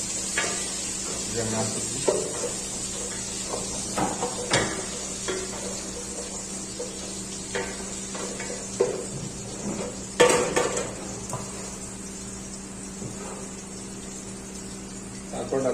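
A wooden stirrer scrapes and stirs inside a cooking pot while Bangladeshi dal is being made, soft irregular clatters and scrapes close by under a steady background hum, with someone talking at times.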